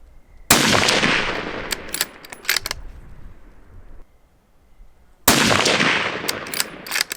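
A deer hunting rifle fires Hornady ammunition outdoors at a 100-yard target: two loud, sharp gunshots several seconds apart, each followed by a ringing echo and rattling clicks from handling the gun.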